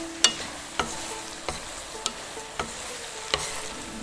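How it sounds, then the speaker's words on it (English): Longevity noodles with soy sauce, salt, pepper and vegetable stock are stirred in a frying pan, a spatula giving about seven sharp scraping knocks at a steady pace over a soft, continuous sizzle, with no talk. "Mix it well."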